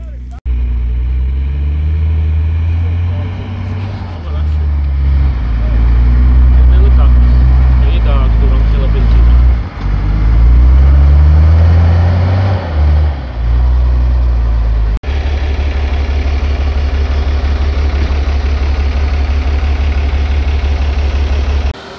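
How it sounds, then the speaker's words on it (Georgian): A car engine labors hard up a steep road on Rkoni–Salome's mountain, a loud, close, continuous rumble that surges and dips as it strains, with voices talking over it throughout. "ისეთი ამოჭრა ამან მანქანა ვეღარ ამოვა"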